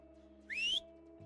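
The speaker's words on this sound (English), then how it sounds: "Who art ye whistling at, sod?" A single short rising whistle from the video game Felvidek rings out clearly for about a third of a second over a faint steady hum.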